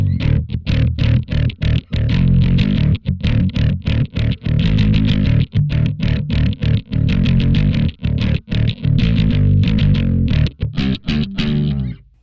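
Bass guitar played through a One Block rock tone effects patch with heavy drive and boosted low end: a dense, gritty, distorted riff of punchy repeated notes with short gaps, loud and upfront, ending in a brief fade with no talk.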